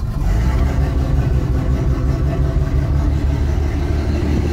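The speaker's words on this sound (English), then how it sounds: "The engine is running on choke at the minute. It's got an automatic choke, so it is a little bit lumpy because it's cold." A cold Bayliner boat engine idles on its automatic choke, running lumpy and uneven with a steady low throbbing rumble, close and loud, with no other sound.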